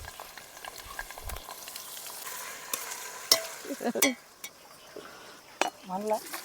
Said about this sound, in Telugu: ముందుగా పసుపు ఉప్పు కలిపి పెట్టుకున్న చికెన్ని నూనెలో వేసేస్తున్నా